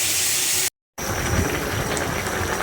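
Shrimp sizzle in a hot frying pan with a dense, steady hiss, loud and close, cut by a brief moment of silence before the crackling frying resumes.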